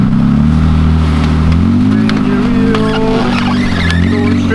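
A drift car buried in the grass verge at Driftland revs hard with its wheels spinning, a loud sustained engine drone and tire whine wavering in pitch throughout, close by.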